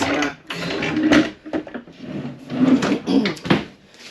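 A deep kitchen drawer being opened and closed, several close wooden sliding rumbles and knocks in quick succession, with no talking.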